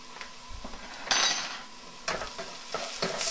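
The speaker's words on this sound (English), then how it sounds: "Stir that in and fry it off." Curry powder being stirred and fried with onions in a pan for a bean curry, with scraping utensil strokes and light sizzling in short bursts, close and fairly quiet, no talk.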